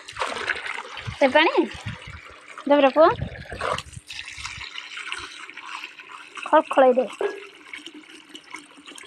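Water running and splashing in a kitchen while raw chicken is washed for home cooking, a steady trickle and splatter underneath close conversation between people.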